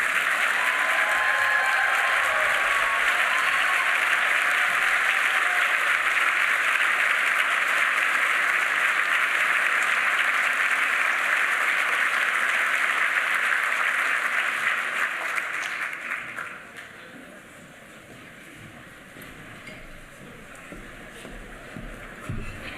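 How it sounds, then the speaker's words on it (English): A gala audience at a legal services anniversary celebration claps loudly and steadily for about fifteen seconds, then the applause fades to quiet room murmur. "please, another round of applause for the Attorney General of the United States"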